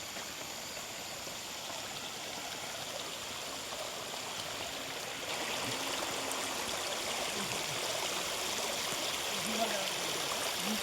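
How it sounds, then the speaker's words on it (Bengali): Stream water flows beside a walking path near the Santook river, a steady broadband rushing that grows slightly louder midway, with faint murmured voices underneath. "সাইড থেকে জলটা বয়ে যাচ্ছে"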